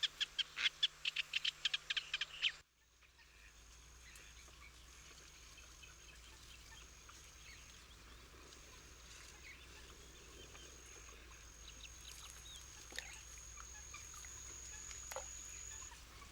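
Wild birds call in the Doñana marshes, a burst of rapid repeated chirping at the start that cuts off, followed by a quiet, steady outdoor ambience with faint distant calls and occasional tones.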